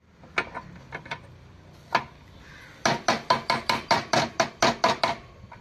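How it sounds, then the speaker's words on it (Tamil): Someone hammers an oil seal into a Maruti Swift engine: a few scattered metallic taps, then a rapid run of about eleven evenly spaced sharp blows, close and clear. "நான் ஆயில் சீல் அடிக்கிறேன்."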